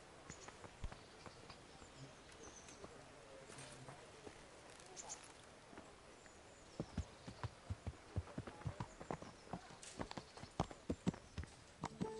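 Horse hooves clip-clop at a walking pace in the medieval game Kingdom Come: Deliverance, a steady rhythmic trot mid-distance that grows denser toward the end, with a voice speaking briefly over it.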